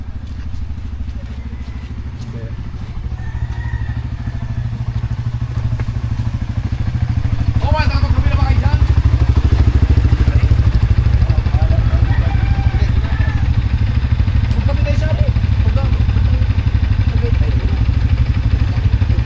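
Several motorcycle engines idle and rev together nearby, giving a loud, steady rumble that swells after a few seconds, with clattering and occasional thuds over it.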